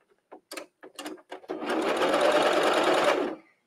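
Sewing machine stitching stretch velvet fabric, starting at a side seam: a few short stop-start bursts of needle clatter, then about two seconds of steady, close, loud running before it stops.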